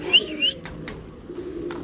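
A female Spanish pouter pigeon coos softly in brief, low murmurs, with a thin higher chirp near the start and a steady background hum, no voices.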